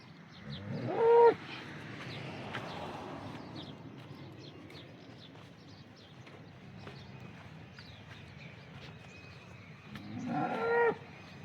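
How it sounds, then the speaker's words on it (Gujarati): Local Banaskantha cows moo twice, once near the start and again near the end, loud and close, with quiet farmyard sounds between. "અને તમામે તમામ બનાસકાંઠાની લોકલ ગાયો છે."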